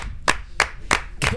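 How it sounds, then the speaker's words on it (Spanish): Four sharp, evenly spaced hand claps, close and distinct, marking an applause cue on a sports talk show. "Un aplauso para nuestro oso reotoso"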